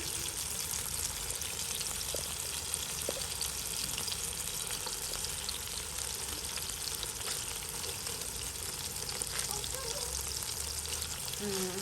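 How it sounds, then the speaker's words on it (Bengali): Steady crackling sizzle of pangas fish frying in hot oil, continuous and fairly loud throughout, with a few faint clinks near the start. "যারা নতুন নতুন রাঁধুনি আছেন তারা এভাবে মাছ ভাজা করলে"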